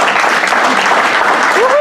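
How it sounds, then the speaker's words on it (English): Audience applause at a college symposium on immigration, a dense, steady wash of clapping from a crowd lasting under two seconds, with a faint voice rising briefly near the end. "we have give her a big round of applause"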